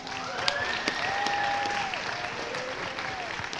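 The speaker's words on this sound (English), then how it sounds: "let's give a big applause for Alejandro Quimbita" Audience applause for a speech contest winner, dense steady clapping at moderate volume with a few crisp individual claps and faint cheering or whoops from the crowd riding on top.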